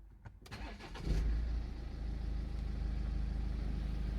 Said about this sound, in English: turn the engine on at this stage to start the coolant bleeding procedure